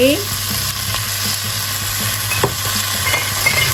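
Chicken stir-frying with oyster sauce in a pan: loud, continuous close sizzling with scattered clinks and scrapes of stirring and a faint hum underneath.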